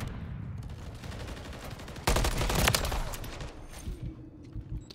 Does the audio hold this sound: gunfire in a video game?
yes